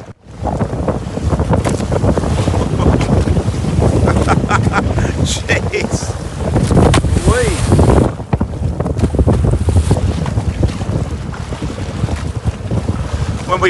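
A small fishing boat out at sea off Amed, Bali, rolls through wind and waves, with loud, blustery wind buffeting the microphone and splashing water against the hull throughout, plus some voices.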